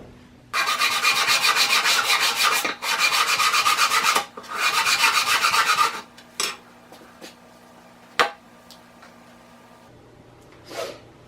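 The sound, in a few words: sanding wood with 60 grit sandpaper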